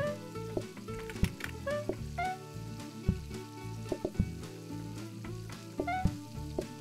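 Food frying and sizzling in the cooking game PlateUp!, a steady crackle beneath repeated clattering kitchen clicks and bright musical chimes, moderately loud with no talking.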